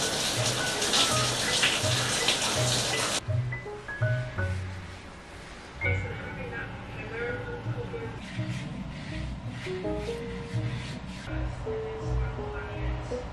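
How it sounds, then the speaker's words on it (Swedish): Shower water runs in a steady hiss and splash at close range, with brief interruptions and shifts in flow as someone moves under it, while a voice talks quietly over the spray. "Jag måste gå och duscha"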